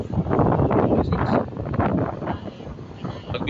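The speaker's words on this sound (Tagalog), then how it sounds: "Mahangin dito." Strong wind buffeting an outdoor microphone in loud, uneven rumbling gusts that rise and ease over a few seconds.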